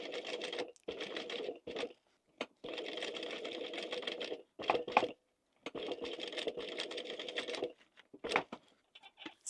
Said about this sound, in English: So you can sew around the outside if you want to.